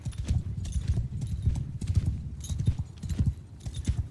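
Horse hooves clip-clop in a steady, rapid rhythm while riding in the medieval combat game Mount & Blade 2 Bannerlord, fairly close and continuous, with no talking.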